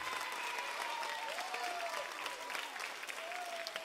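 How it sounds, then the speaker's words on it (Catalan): Theatre audience applauding the conductor at a children's cantata performance in a Mataró theatre, a steady, dense clapping that holds evenly throughout, with faint tonal sounds and a few voices mixed in. "El Joan Cots, un aplaudiment, sisplau."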